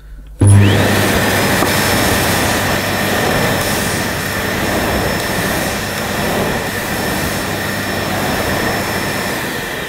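Sebo K1 Komfort cylinder vacuum cleaner starting up and running on carpet: a loud, close, steady motor roar with a high whine and rushing airflow, switching on sharply and holding constant throughout.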